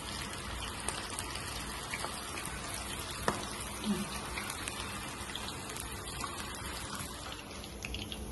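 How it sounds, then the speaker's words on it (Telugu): Pakoda batter fries in hot oil, giving a soft, steady bubbling hiss with faint scattered pops, quiet and continuous with no talk. "పకోడీ ఇలా ఆయిల్ కాగింది, ఇలా వేసుకుంటున్నా."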